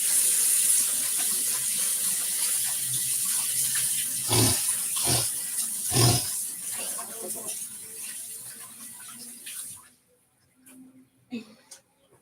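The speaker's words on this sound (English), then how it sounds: "Let me just rinse my hands." A kitchen tap runs steadily while hands are rinsed under it, a broad continuous splash with a few louder knocks midway, then the water shuts off and someone speaks faintly.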